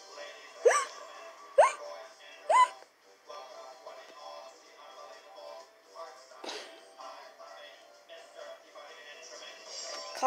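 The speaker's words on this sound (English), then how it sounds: "Followed by hiccups." Three sharp, close hiccups come in quick succession, followed by quieter rustling and shuffling.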